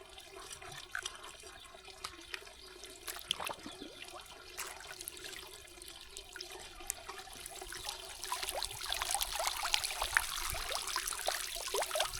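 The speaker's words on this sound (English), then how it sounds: "So we wanted this for our pond, just so it keeps the surface moving" Submersible pump in a garden pond churning the surface, a steady low splashing and trickling wash that grows slightly louder and brighter toward the end, with no one talking.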